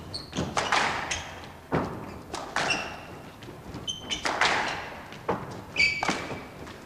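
Sharp squash ball impacts echo around the court in the 1991 World Open squash final, with several thuds and squeaks of shoes against a quiet crowd background.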